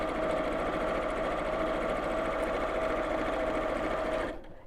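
A sewing machine runs steadily as it stitches down the side of layered fabric, a close, continuous mechanical whir that holds for over four seconds before cutting off abruptly.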